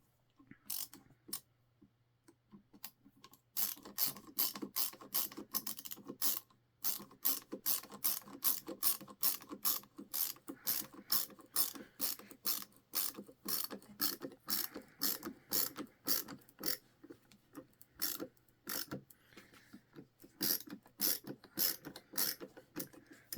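A Milwaukee ratcheting screwdriver drives a 3.5-inch screw into wood, producing loud, close bursts of rapid ratchet clicks that start, pause and pick up again with no talking.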